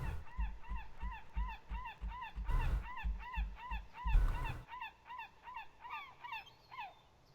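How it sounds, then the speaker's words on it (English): A seagull by the ocean shore calls in a rapid, steady series of sharp honking cries, loud and close. Two brief bursts of rustling noise break in, and the calls fade toward the end. "Alright, seagull, calm down"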